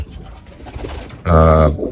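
A pigeon in a racing pigeon loft gives one clear, close, resonant coo after a stretch of low murmuring voice and loft background.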